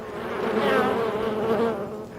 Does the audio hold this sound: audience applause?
no